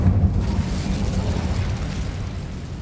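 An Incendio fire spell is cast in the video game Hogwarts Legacy to burn away spider webs in a cavern. It makes a loud whooshing burst that flares at the start, then settles into a sustained, rumbling roar of flame.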